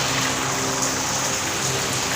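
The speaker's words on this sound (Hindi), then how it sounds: "बारिश हो रही है बहुत तेज़ कराची में इस वक्त" Heavy rain in Karachi pours down in a steady, dense hiss, loud and unbroken, with drops drumming on surfaces close by.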